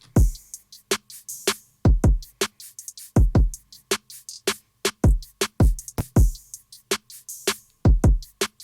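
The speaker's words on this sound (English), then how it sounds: "Have a listen also here in these drums." A drum kit plays a steady groove of punchy kicks, snares and cymbal hits, tight and compressed through a bus compressor at a 2:1 ratio, with no voices.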